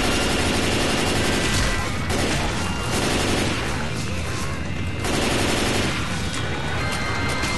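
Dense, continuous gunfire from the video game Left 4 Dead 2, rapid overlapping shots and bursts filling the whole stretch at high volume with barely any pause.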